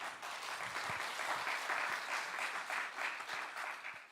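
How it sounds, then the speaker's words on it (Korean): A chapel service audience at Daeshin University applauds to welcome Pastor Kim Moon-hoon of Busan Podowon Church. Moderately distant clapping from a sizable crowd holds steady throughout, with a few louder individual claps standing out. "여러분 먼저 박수 한번 하겠습니다"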